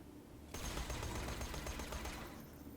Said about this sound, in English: Let's go with the Hellfire here for an SMG.